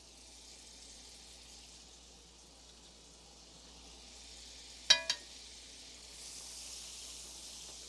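Butter sizzles faintly in a stovetop pan over leftover browned bits, a soft steady hiss broken by a sharp metallic clank partway through, and the hiss swells slightly near the end.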